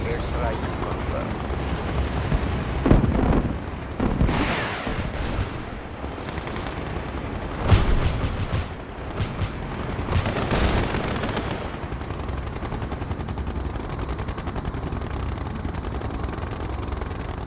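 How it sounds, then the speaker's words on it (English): Airstrike explosions in the real-time strategy game Red Alert 2, several heavy booms and rumbling blasts over a steady din of battle noise, with distant gunfire mixed in. "Airstrike confirmed."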